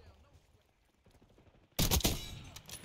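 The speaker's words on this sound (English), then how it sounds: "There's something, like, methodical about using a sniper as a shotgun." Sniper rifle gunfire in a multiplayer video game: one loud sharp blast breaks in after a stretch of quiet background sound, then rumbles and crackles on with further bursts.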